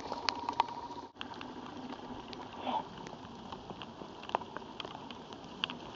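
Rain falling outdoors in the Australian bush, a faint, steady patter of drops with scattered sharper drips and an occasional distant bird call, quiet and without talk.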